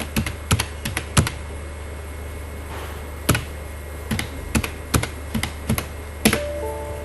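Typing on a computer keyboard in short irregular bursts of crisp clicks and taps with pauses between them, close and clear over a faint steady hum, with no talk.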